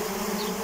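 Dense, continuous buzzing of honeybees from a swarm taken from a trap, close and steady for the whole short stretch.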